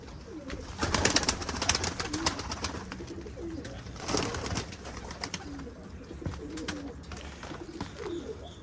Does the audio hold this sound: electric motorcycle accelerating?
no